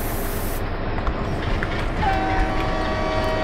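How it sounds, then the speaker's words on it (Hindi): A WDM3A diesel locomotive horn sounds in the Open Rails train simulator during shunting at Vadodara Junction, a sustained tonal blast starting midway over steady rumbling rail noise, no talk. "हॉर्न आपका बहुत ही मस्त है।"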